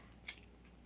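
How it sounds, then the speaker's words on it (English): One short, crisp snip of scissors trimming a custom sticker, close and quiet, alone against faint room tone. "And then you trim it up."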